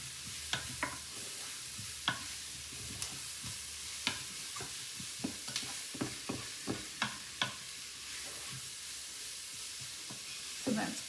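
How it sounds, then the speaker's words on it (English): Food frying quietly in a pan at home is stirred, with a soft continuous sizzle broken by scattered, sharp clicks and scrapes of a utensil against the pan, spaced irregularly. "stir this around."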